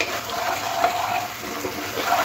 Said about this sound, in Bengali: দিয়ে খুব ভালো করে মশলার সাথে মিশিয়ে নিতে হবে